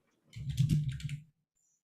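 Rapid keyboard typing for about a second, a dense cluster of clicks and taps heard close and fairly quiet, with no talking over it.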